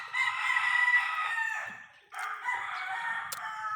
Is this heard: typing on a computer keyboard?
no